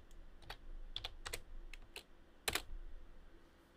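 Keys tapped on a computer keyboard in a quiet room, a handful of sharp irregular clicks spaced apart, with a firmer double press near the end, close and alone.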